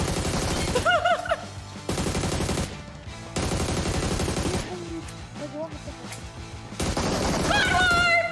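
Video game squad fight with repeated bursts of automatic gunfire in loud, choppy volleys, broken by short pauses, with excited voices and laughter over the shooting.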